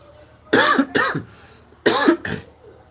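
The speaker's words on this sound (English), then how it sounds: "I'm just having a little cough here" A person coughs close by in two paired bursts, two harsh coughs, a short pause, then two more.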